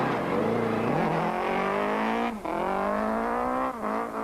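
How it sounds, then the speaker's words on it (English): A Sasol dual-fuel Volkswagen Golf rally car pulls away on a rally special stage, its engine revving hard through rising notes with two sharp gear-change dips, loud and close throughout. "Special Stage 1 and Enzo Kuhn and Martin Buerta are first away"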